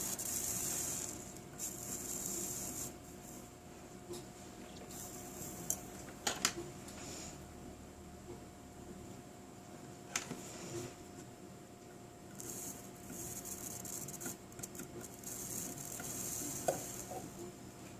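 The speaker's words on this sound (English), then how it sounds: "I am going to put the soldering gun on the end of it, and we are going to melt a little dot of solder" A soldering gun melts a small dot of solder onto a flip-flop body jewelry piece, giving a steady soft sizzle and hiss under a constant hum, with a few sharp clicks scattered through it.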